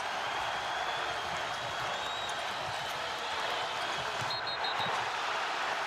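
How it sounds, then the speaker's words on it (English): A basketball arena crowd at a Purdue versus Iowa game rising and applauding after a three-pointer, a dense, steady roar of clapping and cheering throughout, loud and without clear talk. "And this crowd coming to its feet."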